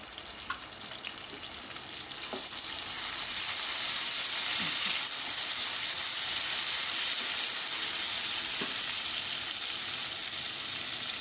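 Loud, steady sizzling of ginger garlic paste frying in hot oil, starting softer and swelling into continuous crackling hiss with occasional small pops.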